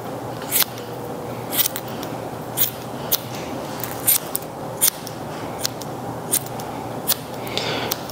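Scissors snip goldendoodle fur during grooming, giving about a dozen sharp, close clips at an irregular pace over a quiet background.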